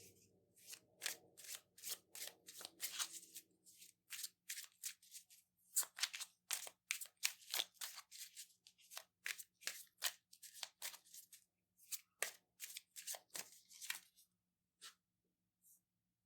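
Tarot cards shuffled and handled at close range, a long run of quick papery flicks and slides that thins out into a few isolated card snaps, quiet and intimate.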